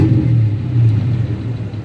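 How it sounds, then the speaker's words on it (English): A 1985 Chevrolet Caprice Classic V8 rumbles on a cold morning, a steady low, throaty engine drone heard close up with slight swells and no voices. "Why y'all put that V8 in here? It's gonna really be rumbling."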